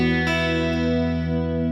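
Electric guitar run through a Mooer Ocean Machine pedal with reverb set to a long decay, a sustained chord blooming into a loud, dense wash of tone that rings on steadily with no talk.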